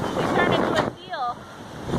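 Rough ocean surf crashes at a beach while strong wind buffets the microphone, a continuous loud roar that eases near the end. A brief voice-like tone cuts through midway.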